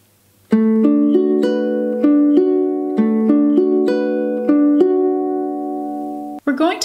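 A ukulele fingerpicking pattern for a song, played up to song tempo: clear, close plucked notes in a steady even rhythm with sustained ringing tones, ending with a brief strum.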